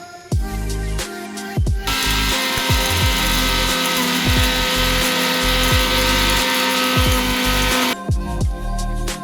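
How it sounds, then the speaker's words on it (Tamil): Electric mixer grinder whirring loudly as it grinds coriander and other spices into powder, a sustained high motor whine between short start-stop bursts and clattering at the beginning and end. "இது மல்லித்தூள் இது எல்லாத்தையும் நம்ம அரைச்சு எடுத்துக்கலாம் பவுடரா"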